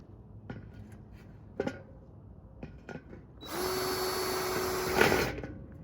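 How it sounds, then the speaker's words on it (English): A power drill bores holes for a metal fence post in rocky ground, with a few faint clicks and taps before a loud, steady high-pitched whine that runs for about two seconds and then stops. "Just drill it in."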